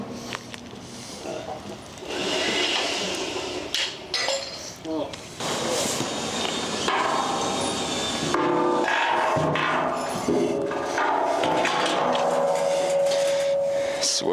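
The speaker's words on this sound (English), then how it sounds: "I'm going to go through and pre-drill all these holes into the concrete" A hammer drill pre-drills holes into concrete on an Australian house build. Busy, steady broadband grinding and rattling runs loud and close through the whole stretch, mixed with scattered clinks and knocks of site work.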